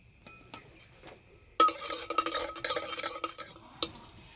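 Whole cumin seeds hit hot oil in a wok. A sudden loud sizzle bursts up, crackles for about two seconds and then fades, with faint clinks of utensils before and after.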